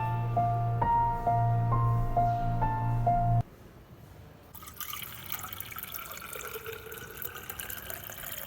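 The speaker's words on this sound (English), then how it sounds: "Water is filled up to the rim of water can." Water pours into a water can during a physics demonstration, a broadband splashing rush that begins midway after a few seconds of steady ringing tones.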